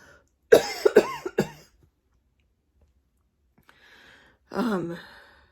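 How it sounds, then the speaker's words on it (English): Several sharp, close coughs come in a quick cluster, then a long quiet pause before another rough, breathy cough-like burst. "Apparently a cough."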